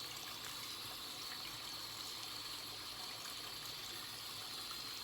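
Warm water runs steadily while bleached hair extensions are rinsed out, a constant broad hiss of flowing water at moderate distance with no voices.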